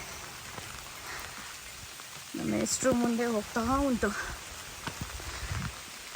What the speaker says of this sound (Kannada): ಕಂಪ್ಲೀಟ್ಲಿ ಮಳೆ ಜಾಸ್ತಿ ಆಯ್ತಲ್ಲ ಫಾಗ್ ಬರೋಕ್ಕೆ ಶುರುವಾಯಿತು